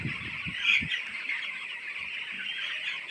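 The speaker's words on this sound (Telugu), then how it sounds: "ఇలా 14వ రోజు కోడి పిల్లలు అయితే ఇలా ఉన్నాయి" Fourteen-day-old chicks fill a poultry shed with a dense, continuous high chirping wash. A few low knocks sound near the start.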